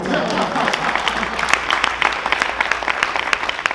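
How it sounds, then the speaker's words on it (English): Audience applause at a theatre and music conservatory signing day event: a crowd claps in a loud, fast, sustained patter with voices mixed in throughout. "Yes, a clap for that."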